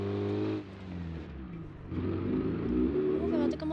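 A car engine revs hard with too much throttle while driving in street traffic, a sustained droning roar that rises and falls in pitch, heard close from inside the vehicle.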